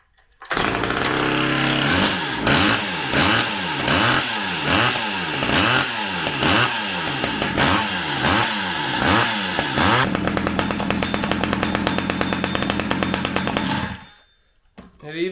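A Stihl 010av chainsaw, once faulty with no spark and no compression, is cranked with a series of rhythmic pull-start strokes, then fires and runs loud and close with a buzzing two-stroke roar before cutting off.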